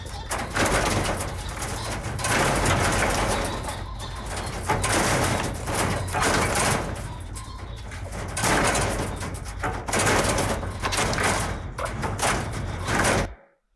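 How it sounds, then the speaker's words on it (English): Caged game birds bred for shooting thrash and lunge against the cage roof, giving steady loud flapping and scuffling clatter with bursts of coos and bird calls, close by and continuous without speech. "they're so desperate to get out of the cages that they repeatedly lunge at the cage roof"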